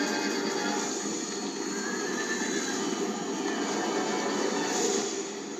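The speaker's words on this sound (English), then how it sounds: "into the deadly path of the thundering hooves" A rushing din of many hooves pounding fast amid a neighing horse, dense and continuous throughout.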